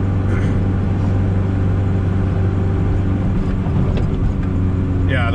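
A turbocharged Honda Civic EF hatchback with a 1.6-liter B16 engine roars loudly and close in a fourth-gear pull, a sustained droning with a steady mechanical tone that stays strong throughout.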